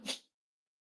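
A single sharp sneeze, close and fairly loud, followed by silence.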